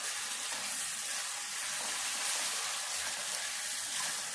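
Prawns frying in a hot pan with coriander and roasted coriander powder being stirred in, a steady dense sizzle with faint scraping from the stirring, continuous and close, no talking.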